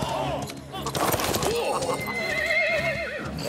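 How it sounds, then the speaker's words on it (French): Horses whinnying loudly and repeatedly in a Zorro adventure scene, with hoofbeats clip-clopping and a busy musical score running underneath, and excited voices mixed in throughout. "Rattrapez les chevaux!"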